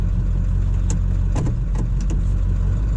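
A 7.3 Powerstroke diesel truck engine drones steadily and loud while being driven, with a constant low rumble and a few brief clicks and knocks over it.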